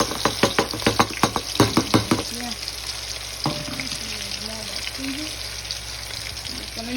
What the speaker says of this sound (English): now I'm gonna put on the onions, the grated onion that I did